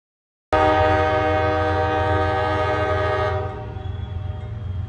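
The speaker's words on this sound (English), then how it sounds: "Just beat the train." A train sounds its horn loudly and close by, holding a long, harmonically rich blast for several seconds before it cuts off, leaving the rumble of the passing train.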